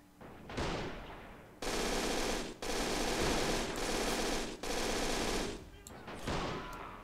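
Sustained bursts of automatic gunfire aimed at a boss in the Men of War: Assault Squad 2 video game, three long dense volleys separated by short breaks, loud and continuous.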